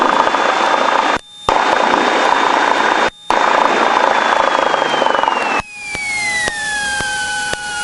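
Light aircraft engine during a run-up RPM check at a holding point before departure: a loud, steady, droning propeller note, cut by brief drops, that dips in pitch near the end as RPM falls.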